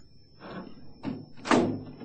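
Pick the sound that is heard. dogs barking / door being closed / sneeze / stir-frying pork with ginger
door being closed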